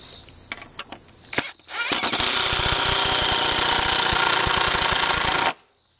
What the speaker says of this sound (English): I'm going to drive this 3-inch decking screw through the countersink hole that we just drilled.